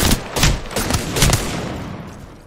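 Several sharp, heavy shots ring out from a Wingman pistol in an Apex Legends 1v1 fight, spaced irregularly over a couple of seconds, each with a short ringing tail that fades away.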